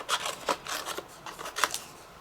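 Scissors snip through papercraft card pieces in quick, close, crisp cuts, several strokes in a row with soft rasping between them.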